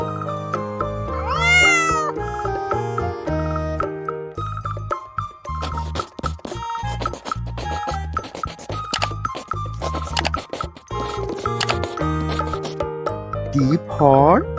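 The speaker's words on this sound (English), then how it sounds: "C for cat." A cat meows clearly in a cartoon alphabet lesson for kids, one rising meow up front and another near the end over a bright, busy music bed, with light chopping and clinking taps between.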